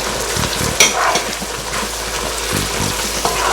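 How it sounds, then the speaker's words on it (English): Herrings and shrimps drop into a pan of sizzling okra stew, a dense, close frying hiss with a few splashy thuds and stirring scrapes as the seafood goes in. "It's now time for me to add my herrings and my shrimps in"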